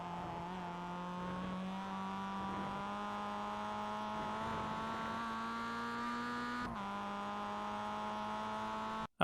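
A Mazda MX-5 race car in iRacing at Lime Rock, its engine held at full throttle on a straight as a loud, steady buzzing drone that climbs gradually in pitch, with a brief dip near the end as revs reset.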